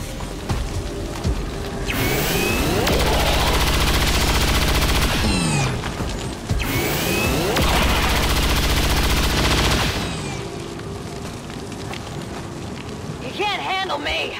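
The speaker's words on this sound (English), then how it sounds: "We'll send our hollow targeting Grenadier in to take the first shot at this stun lancer." Automatic gunfire from an XCOM 2 Grenadier's chain shot at a stun lancer, two sustained loud bursts of rapid shots with a heavy mechanical rattle, separated by a brief lull and followed by quieter game ambience.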